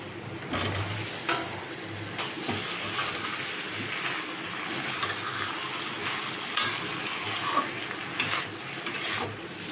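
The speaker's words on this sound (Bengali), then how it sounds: "এবারে আলু পটলটা ভাজাটা দিয়ে দিচ্ছি" Fried potato and pointed gourd pieces go into a home kitchen pan with prawns cooked in spice paste, giving a steady low sizzle with scraping stirs and light utensil clinks and no talk.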